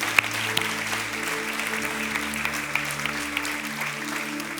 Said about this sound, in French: tout le monde dit Amen et applaudisse bien fort le roi des rois